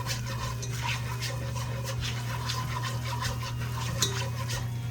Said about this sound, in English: So keep whisking it for about a minute or two, just so you can cook out the flour.